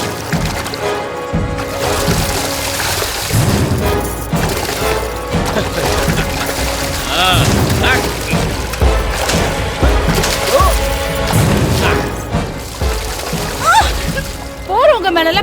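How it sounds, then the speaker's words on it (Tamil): Water is poured and splashed onto passers-by during a rowdy Holi festival street scene, continuous splashing and sloshing throughout, mixed with voices and background commotion. "போறவங்க மேல இப்படி தண்ணி ஊத்துறியே"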